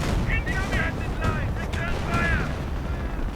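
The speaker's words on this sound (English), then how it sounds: "we are seeing more artillery in an attempt to hit the Panthers, but it seems to be flying too far" Artillery fire in a WWII strategy game, with German Panther tanks under bombardment: a steady loud rumble of distant shelling with repeated whistling shells arcing overhead, continuous throughout.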